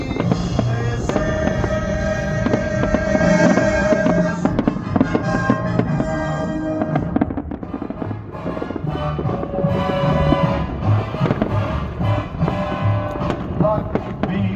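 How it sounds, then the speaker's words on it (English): Fireworks at a night drone and fireworks show, bursts and crackles rolling continuously under loud music with a singing voice, dense and sustained throughout. "drone and fireworks show"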